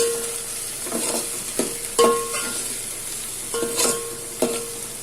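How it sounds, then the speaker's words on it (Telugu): Coriander, mint and green chillies stirred together in a hot pan for sweet corn soup: a soft, continuous sizzle broken by several distinct scraping strokes of a spoon against the pan. "ఇవన్నీ కలుపుకుందాం."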